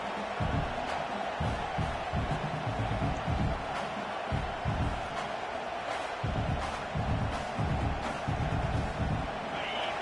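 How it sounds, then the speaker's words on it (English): A large stadium crowd in the College Football 25 video game roars and murmurs continuously during a Wake Forest vs Michigan playoff game, with a steady wash of cheering and rhythmic low thumps running throughout. "Listen to the crowd energy here in the early going."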